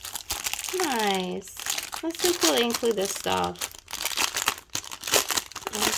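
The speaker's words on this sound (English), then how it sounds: "Sorry about the plastic noise. I know it can be loud." Plastic packaging crinkles and crackles loudly in bursts while a heat press and its accessories are unboxed, with a person talking over much of it.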